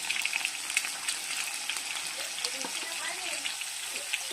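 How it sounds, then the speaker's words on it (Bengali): Potatoes fry in hot oil with salt and turmeric, giving a steady broadband sizzle with small crackles throughout, while a voice talks faintly underneath. "আলুটা একটু ভেজে নিয়ে তারপর বেগুনটা দিব।"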